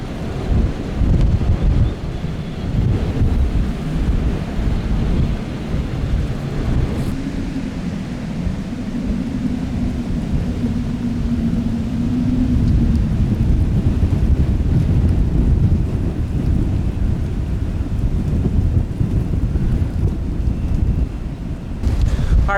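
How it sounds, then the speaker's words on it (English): Roaring 50 mph winds in a winter snowstorm with light to moderate snow, a loud continuous buffeting rumble against the microphone that lasts throughout. "Light to moderate snow, but with 50-mile-an-hour winds."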